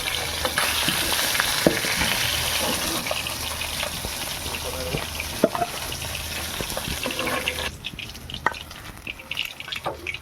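Fish frying in hot oil gives a dense, crackling sizzle with scattered pops and spits, close and steady, fading a little toward the end.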